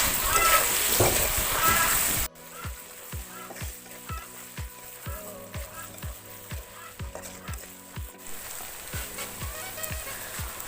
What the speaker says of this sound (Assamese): নিমখ আৰু ৰংগুড়াখিনি দি এইখিনি এতিয়া ভালদৰে ভাজি ল'ম।